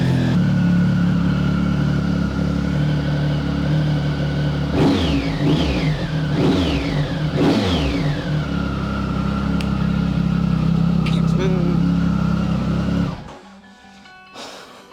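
Triumph Speed Triple motorcycle engine idling loudly, then three sharp revs rising and falling in quick succession before settling back to a steady idle and cutting off near the end.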